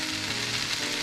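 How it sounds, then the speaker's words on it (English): Stir fry sauce sizzles steadily in a hot pan with chicken sausage, a dense, even crackling hiss heard up close with no talking. "I'm going to go ahead and add more of the stir fry sauce because really this is what gives it"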